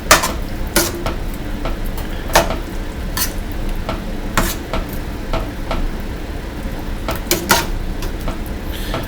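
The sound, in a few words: stirring a bean soup mixture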